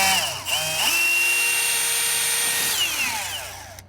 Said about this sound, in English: when you're drilling through fiberglass, it helps make nice clean holes like we have here